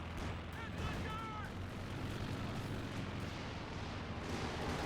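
Stuka dive bombers striking in a Stalingrad match of a World War II strategy game, dense rumbling explosions and distant gunfire rolling continuously, with a faint whistle early on.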